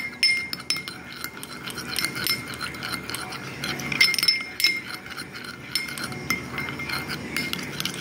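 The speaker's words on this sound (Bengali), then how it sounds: "দইটাকে একটু ফেটিয়ে নেবো" Strained yogurt being whisked in a bowl for homemade sweet red yogurt, producing quick repeated metallic clinks and scraping taps against the bowl, moderately close with no talking.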